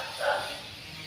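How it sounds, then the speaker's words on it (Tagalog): A single short dog bark, moderately close, on a warm afternoon walk outdoors, standing briefly above quiet background noise. "Ang cute ng aso."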